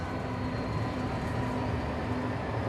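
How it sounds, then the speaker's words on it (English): A city tram rolls past on a street with a 30 km/h limit, a steady, fairly close rumble of wheels on rails lasting throughout with no speech. "so I'll take the tram."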